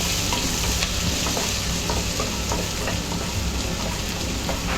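Chopped ginger and garlic with green chilli sauté in a hot pan with a steady, close sizzle and occasional stirring scrapes, no talking.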